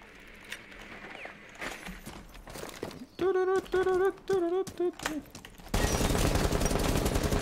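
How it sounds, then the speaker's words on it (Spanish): Smoke's FMG submachine gun firing in Rainbow Six Siege, several rapid automatic bursts with short gaps, then a sustained louder stretch of fire, amid softer game movement sounds. "Esa es la FMG de Smoke moviéndose Está disparando"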